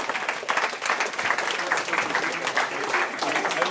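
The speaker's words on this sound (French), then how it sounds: "on les applaudit très fort avec 5 points sur 6" Applause from an audience honoring the Corsica Chess Club team, winners with 5 points out of 6 at the 2011 Corsican chess championship, a steady dense clapping throughout with a few voices mixed in.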